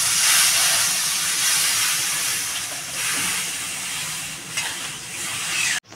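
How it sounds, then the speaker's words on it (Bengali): Water boiling in a cooking pan after frying prawns, a close steady steamy hiss and bubbling that fades briefly and returns, with a few clinks near the end. "বন্ধুরা, জলটা আমার ফুটে গেছে।"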